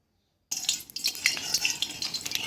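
Mustard oil starting to heat in a pan on a stovetop, a faint crackling hiss with light scraping clicks, beginning abruptly after a half-second of silence.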